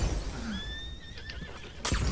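A horse neighs in a cowboy video game, a rising whinny that trails off through the middle of the clip, close and clear over steady game background, followed by a sharp crash near the end.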